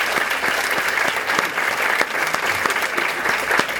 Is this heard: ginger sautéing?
no